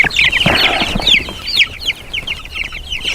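Two-week-old Cornish Cross broiler chicks give rapid high-pitched peeps and chirps, close by, in repeated bursts with brief rustling between calls.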